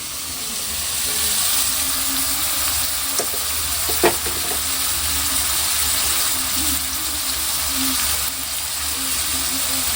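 Onions frying in a pan alongside whole spices for biryani give a steady, dense sizzle throughout, with a couple of faint clinks from stirring, close and continuous.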